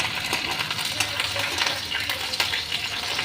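Green chillies frying in a pan, stirred with a slotted ladle for Bhojpuri-style chana ghugni, giving a dense continuous sizzle with quick metallic scrapes and taps, close and steady.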